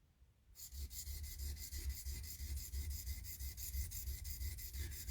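A knife blade's bevel is worked on a polishing stone, making a continuous close rasping rub with a steady stroking rhythm that begins abruptly after a brief silence and carries on without talk.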